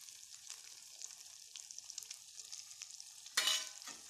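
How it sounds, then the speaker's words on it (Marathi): Tomato paste goes into cooking masala in a pan for egg curry, giving a soft crackling sizzle with faint stirring, then a brief louder burst of sizzle near the end. "आता मी तिथं टोमॅटोची पेस्ट टाकणार आहे"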